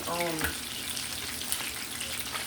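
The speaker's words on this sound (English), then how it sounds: "So that's how we fry our fish." Fish frying in a pot gives a steady, close crackling sizzle for the whole stretch, with a short voiced sound near the start.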